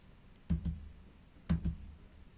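Two close double clicks of a computer mouse on a website, evenly spaced about a second apart, crisp and quiet against a faint background.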